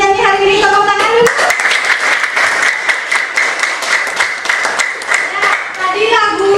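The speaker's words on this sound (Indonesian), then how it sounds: "Tepuk tangan dulu." A class of children claps together in a classroom after singing, a bright burst of rapid, fairly loud hand claps lasting several seconds, with a voice and melodic tones at the start and end.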